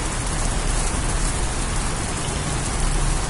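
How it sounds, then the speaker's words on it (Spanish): Steady rain falls in a video game, a dense, even hiss of heavy rainfall with flowing water mixed in, loud and continuous without any voices. "escuchando el sonido de la lluvia y el sonido fuerte de agua fluyendo"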